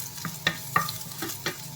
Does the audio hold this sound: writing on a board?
no